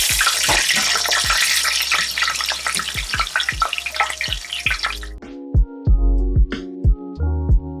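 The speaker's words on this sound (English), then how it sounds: "Now let's fry up some pickles." Pickles fry in hot oil, giving a loud, close, crackling sizzle with dense bubbling that stops abruptly partway through. Several hard clunks and thuds follow, set apart by brief silences.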